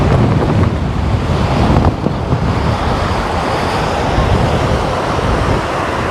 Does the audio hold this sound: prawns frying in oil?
no